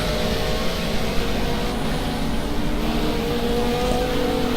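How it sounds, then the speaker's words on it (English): A continuous engine drone hums steadily throughout, a GT3 racing car in a video game running at speed somewhere nearby at Brno, with no voices. "You can hear where the next car of Jan Decoy is."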